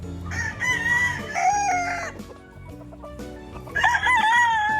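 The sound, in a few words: Cuban Tiger gamefowl rooster crowing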